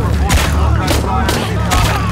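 Heavy gunfire erupts in the video game Shadow of the Tomb Raider, a run of loud booming shots in quick bursts over a low rumbling background.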